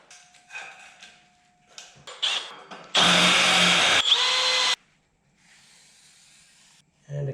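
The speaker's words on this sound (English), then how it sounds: "I'm going to cut a channel all the way down this" A power tool cuts a channel down a wooden slide for an expandable workbench, whining in short bursts and then one sustained loud, harsh cut of about two seconds, with a fainter pass afterward and a final brief burst.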